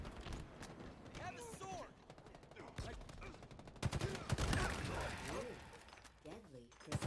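Video game gunfire: bursts of rapid shots and sharp cracks, strongest near the middle, mixed with other game sounds and heard under a raised voice talking throughout.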